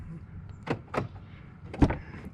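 A door on a 2017 Chevy Bolt EV Premier shuts nearby, with a couple of light clicks or handle sounds followed by one solid thump, and no talking over it.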